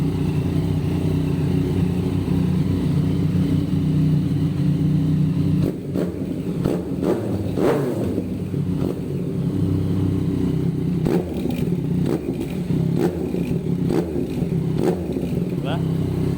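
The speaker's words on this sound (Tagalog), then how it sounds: "I-rep mo nga, boy. I-rep mo konti." A six-year-old Yamaha MT-09 motorcycle, engine still cold, idles steadily up close, with bursts of revving and clattering mechanical knocks in the middle, while people talk nearby.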